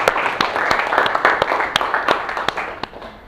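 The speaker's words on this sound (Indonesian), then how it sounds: "Tepuk tangan dulu dong buat kalian." Students clapping in a classroom, a fast ragged patter of many hands with sharp individual claps standing out, steady for a few seconds before tapering off, with faint chatter beneath.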